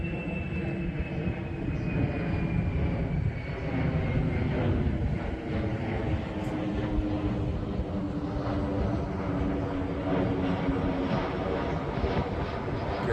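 An RC model airplane with an engine and propeller drones steadily overhead through figure-eight turns, a continuous loud buzz with slight pitch shifts and no voices.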